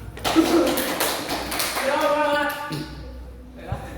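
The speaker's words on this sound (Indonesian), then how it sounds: "Yang beri tepuk tangan untuk Sugina." A classroom of students claps for a presenter in a brief burst of scattered, overlapping hand claps and taps. Voices chatter over and after the applause in a lively indoor room.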